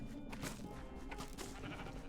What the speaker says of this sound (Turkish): Şu koyunu da devirelim.